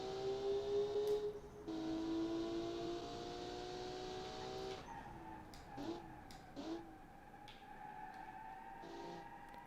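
Race car in the BeamNG driving game braking hard, with sustained tonal tire squeals and engine whine fading into shorter squeaks and clunks, fairly quiet overall.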